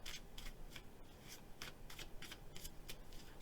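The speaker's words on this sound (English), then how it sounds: "One more quick shuffle" A deck of tarot and oracle cards gets a quick shuffle, faint repeated papery swishes in a steady rhythm over a quiet room hum.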